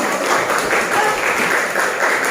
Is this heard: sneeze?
no